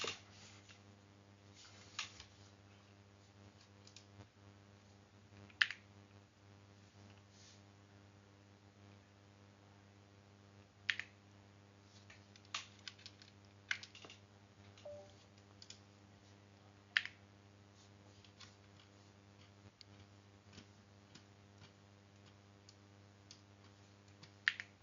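A computer keyboard is used at a Raspberry Pi terminal while setting up Pi-hole, with sparse scattered key clicks and taps over a constant low electrical hum.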